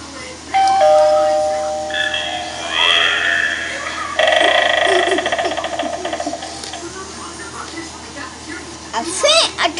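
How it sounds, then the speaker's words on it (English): A Gemmy animated eyeball doorbell Halloween decoration plays its electronic sequence of tones, chimes and spooky voice effects, loud and near, rising and falling in bursts across the clip. "It's the Gemmy animated Doorbell eyeball."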